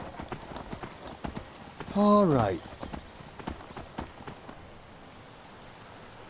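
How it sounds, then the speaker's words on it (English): Horse hooves clip-clopping steadily while riding in the video game Skyrim, a brisk, even gallop that runs throughout, with a voice briefly speaking over it partway through. "Come on, horse."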